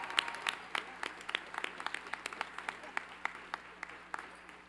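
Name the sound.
applause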